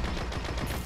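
Rapid sniper shots in the shooter game Destiny, a quick cluster of sharp cracks packed into under a second, close and punchy.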